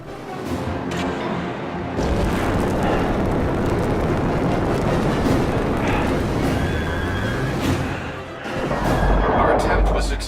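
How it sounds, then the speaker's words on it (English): Phaser fire blasting at vents during Star Trek video game combat, a loud sustained roar of energy bursts and rumbling impacts lasting several seconds, with a brief lull before another heavy surge. "Keep shooting out those vents!"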